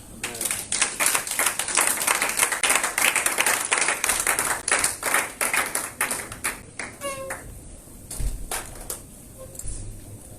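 Church congregation at a Sunday worship service clapping and applauding together in a steady, dense rhythm, loud and sustained, with a few voices and chatter mixed in before the clapping thins toward the end.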